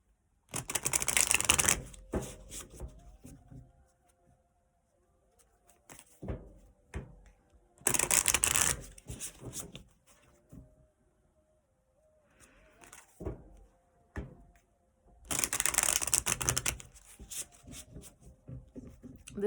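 Tarot cards are shuffled in three separate riffling bursts, each lasting about two seconds with quiet gaps between, close and fairly soft, with no talk.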